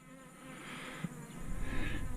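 A steady insect buzz hums throughout, a dense droning like many bees, growing slightly louder toward the end.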